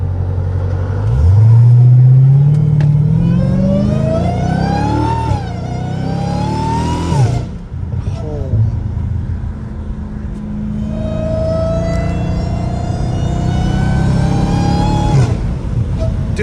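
A Dodge Hellcat Redeye with a cat-back exhaust accelerating hard, deep exhaust roar rising through several gear pulls with a prominent supercharger whine climbing in pitch, loud and close.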